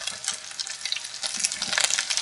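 Liver fries in oil in a pan, browning to a golden crust, with a steady, close crackling sizzle and scattered pops throughout and no one speaking.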